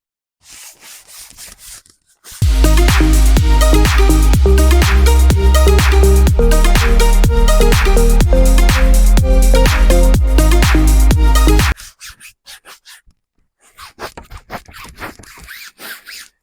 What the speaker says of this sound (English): Let's give it a scrub.